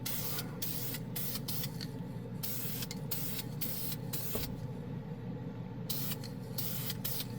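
A Dupli-Color primer spray can lays a coat onto plastic model parts in several close, hissing bursts of varying length, with short pauses between them.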